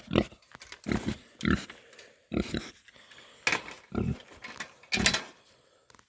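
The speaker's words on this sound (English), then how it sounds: "Pepper is a pregnant Idaho pasture pig, IPP." An Idaho pasture pig, pregnant and penned on a farm, lets out a string of close, loud grunts and snorts in uneven bursts separated by short pauses, with no voices over them.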